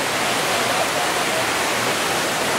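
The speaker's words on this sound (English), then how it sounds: "There's a waterfall!" Waterfall at Villa Escudero pours in a steady, loud, broadband rush, with no break or change in level from start to end.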